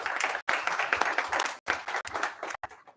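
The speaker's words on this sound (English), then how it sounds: "let's give a big round of applause" A brief burst of applause rises at a board of education business meeting, a room of people clapping together for a few seconds with short pauses between bursts, moderately close, no talk.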